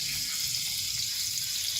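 Onion sizzling in hot oil in a home kitchen pan, a soft steady crackling hiss with no voice over it.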